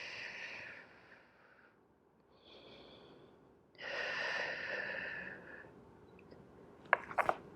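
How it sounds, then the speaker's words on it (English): Deep breaths during a Pilates back stretch, several slow airy inhales and exhales close to the microphone, quiet and alone. "Take a couple of breaths here."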